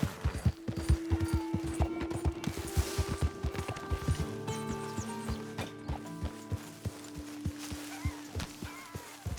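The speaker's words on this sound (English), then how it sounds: "Hey, Mr. Morgan, get that horse out of here" Rapid horse hoof clip-clops in the video game Red Dead Redemption 2 beat steadily throughout, joined by clanking mechanical sounds and sustained tones, with no talking.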